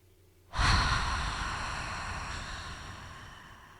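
A slow, deep breath drawn in during a guided relaxation exercise, a soft but close airy rush that swells suddenly and then fades gradually over a few seconds.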